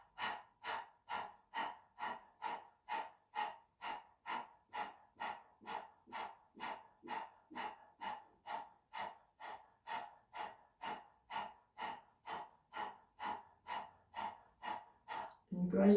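A person imitates a dog's panting with the tongue stuck far out: quick, rhythmic breaths in and out, close and steady, repeating evenly about twice per second.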